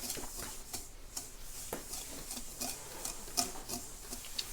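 A spoon stirs dry baking ingredients, including salt, together in a bowl for a chocolate ricotta cake, with soft repeated scraping and ticking strokes at an even pace, close and fairly quiet.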